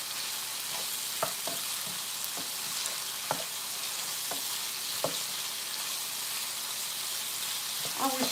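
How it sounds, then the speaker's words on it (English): Vegetables sauté in a hot pan while red rice is being made in a home kitchen, giving a steady soft sizzle with occasional light stirring clicks and scrapes, moderately close and without talk. "I just like to saute my veggies."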